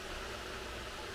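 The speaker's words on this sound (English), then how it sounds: "I apologize for the fan noise." Steady, faint whooshing hum of an electric fan running in a hot garage, with no voices or other sounds.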